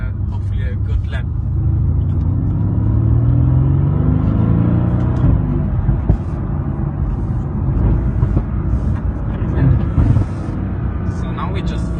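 A Mercedes-AMG GT lapping a race track, a loud continuous engine drone inside the car with shifting pitch as it changes speed, a few sharp clunks, and a voice talking over it.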